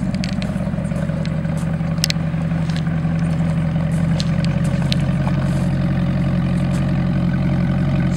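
A Brabus-modified Mercedes-Benz SLS sports car with a switchable exhaust idles with a deep, steady rumble, loud and close, holding an even low drone throughout.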